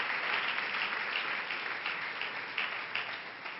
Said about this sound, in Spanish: Denle ese aplauso a Dios